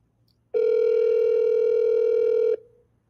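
A steady telephone ringback tone sounds once, loud and continuous for about two seconds before cutting off, with quiet background before and after, while calling the county jail.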